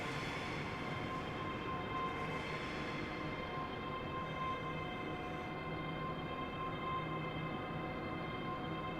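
A train running out of tunnels from Glasgow toward Dunblane in Train Sim Classic gives off a steady, quiet, unbroken mechanical rumble and drone with a faint high whine that holds evenly throughout.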